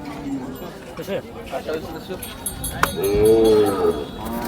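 A Khillar cow moos loudly and close by at the Sangola cattle market, a long drawn-out low call rising over crowd chatter and people talking nearby.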